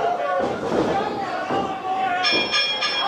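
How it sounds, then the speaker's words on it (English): Ring bell at an AAW professional wrestling event, struck a few times in quick succession near the end, ringing through loud crowd chatter and commentary. "There's the bell."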